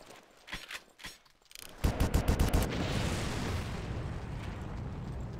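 Gunfire and explosions in the Far Cry game as objects are blown up: a run of sharp shots and pops, then a burst of rapid blasts that gives way to a sustained roaring rumble, with no talking.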